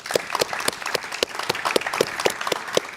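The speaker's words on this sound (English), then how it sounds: "yet another round of applause for the guests I was talking to." Sparse applause from a modest audience honouring guests at a net zero roadmap event, individual claps distinct and fairly close for about three seconds.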